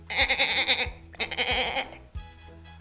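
A goat bleats several times in quick succession, loud and close, the wavering cries separated by short pauses.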